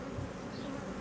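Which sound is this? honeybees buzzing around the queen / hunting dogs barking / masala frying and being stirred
honeybees buzzing around the queen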